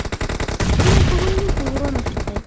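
Rapid M16A4 rifle fire in PUBG Mobile rings out as a dense run of sharp, closely spaced shots across the whole moment, loud and near, with a brief tonal game effect mixed in.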